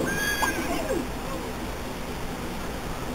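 A horse whinnies near the start, a rising then falling neigh lasting about a second, over steady outdoor background noise with no talk.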